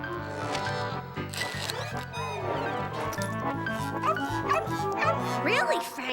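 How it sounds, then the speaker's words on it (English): A poodle yaps in a cartoon scene, giving a run of sharp, close barks and yips mixed with whimpers, while voices talk over and between the barking. "It's just a poodle."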